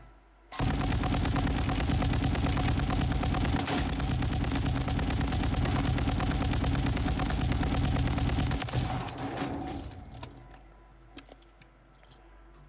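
A long burst of rapid automatic gunfire in a video game, an unbroken, evenly pulsing stream of shots lasting about nine seconds before stopping abruptly and leaving faint scattered sounds.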